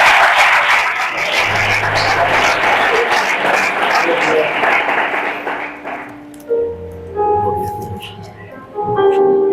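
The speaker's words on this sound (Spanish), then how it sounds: "Dale un aplauso al Señor" A church congregation claps and cheers in praise, a loud dense burst that fades after about six seconds into held musical tones and scattered voices.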